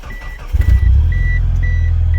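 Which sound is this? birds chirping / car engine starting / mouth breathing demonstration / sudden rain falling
car engine starting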